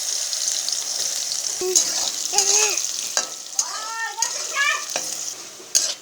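Soybean chunks coated with salt and turmeric fry in hot oil with a steady close sizzle, broken by a few sharp spatula clicks and faint squeaky scrapes against the pan.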